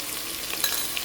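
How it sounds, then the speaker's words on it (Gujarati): Chopped onions go into a frying pan over ginger and garlic for karela biryani, giving a soft, steady sizzle with faint crackles. "હવે એડ કરી દઉં છે ડુંગળી"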